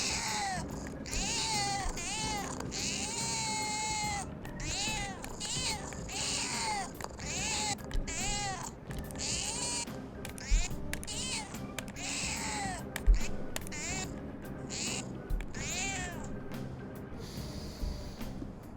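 Cat meowing repeatedly from a pet cat in the video game Persona 5 Royal, a run of high, wavering meows over a steady layer of game music, moderately loud throughout.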